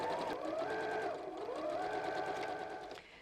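A sewing machine runs steadily as it stitches a seam on a fat-quarter fabric tote bag, with a continuous motor whir and needle rhythm that shifts pitch slightly before stopping near the end.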